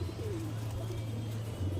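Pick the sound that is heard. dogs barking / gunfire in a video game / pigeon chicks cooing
pigeon chicks cooing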